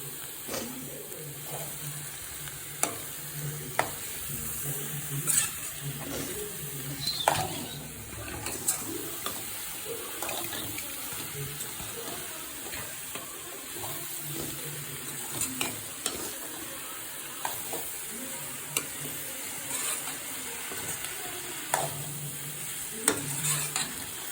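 Two packets of mushrooms being stirred in a frying pan for a mushroom gravy, with a soft continuous sizzle broken by frequent clattering spoon scrapes against the pan, close and fairly quiet.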